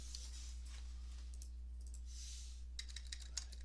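Quiet, quick keystrokes on a computer keyboard as a Windows command is typed, with short bursts of clicking separated by pauses and a steady low hum beneath.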